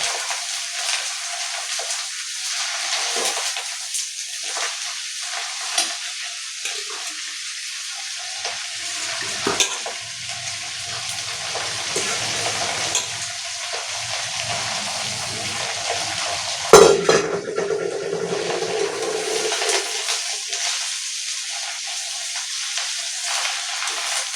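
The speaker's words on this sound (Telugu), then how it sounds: "శుభ్రంగా డీప్ ఫ్రై చేయాలండి కరివేపాకుని." Curry leaves deep frying in hot oil give a steady broad sizzle throughout, with a brief louder crackle burst partway through; close and continuous, no voices.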